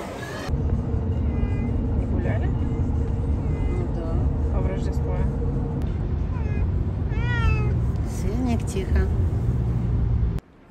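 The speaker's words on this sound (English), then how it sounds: "I guess we have a cat now." A cat meows repeatedly in rising and falling cries, close and loud over a continuous engine-like rumble, with people talking nearby.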